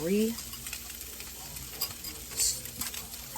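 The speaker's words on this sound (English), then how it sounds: "give it a good stir" A spoon stirs a cornstarch-thickened sauce in a pan, giving a faint sizzle with soft scraping and occasional light clinks, low and close, with a brief voice at the start.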